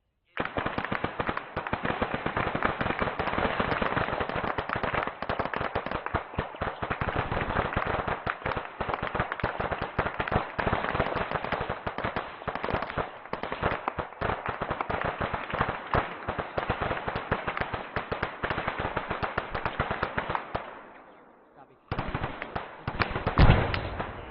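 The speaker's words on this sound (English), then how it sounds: "They're shooting at somebody." Sustained, dense crackle of airsoft gunfire during platoon training in wooded terrain, continuous near-constant popping for about twenty seconds before a brief lull, then a few more shots, with faint voices underneath.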